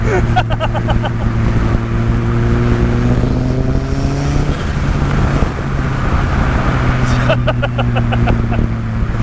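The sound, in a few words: RX-5 Turbo car engine during a test drive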